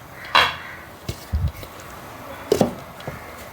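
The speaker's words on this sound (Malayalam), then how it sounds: "ഇനി ഇത് മൂടി വെച്ച് ചെറുതീയിലൊന്ന് വേവിക്കാം." A lid is set onto a pan of soybean roast, giving a few separate metallic clanks and knocks, one sharp at the start, a cluster in the middle and another near the end, against a quiet background.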